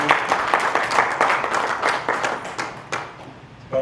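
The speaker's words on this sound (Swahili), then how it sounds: "Makofi kwa Bwana Yesu." Applause during a church service, a steady patter of many hands clapping at moderate loudness that thins slightly toward the end before a final burst.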